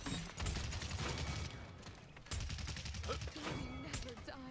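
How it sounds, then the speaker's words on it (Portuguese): Rapid bursts of gunfire from a team fight in the video game Paladins, loud and sustained with repeated volleys of overlapping shots, sometimes under a player's voice. "Tiroteio tá comendo ali em cima"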